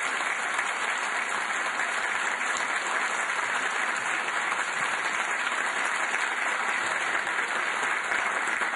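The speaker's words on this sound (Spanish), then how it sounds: "Ricardo, te mereces que te demos un fuerte aplauso por todo lo que nos has acompañado." Strong, sustained round of applause from an audience at a speech in a small town, a dense, even roar of clapping that holds steady throughout with a faint high whine above it.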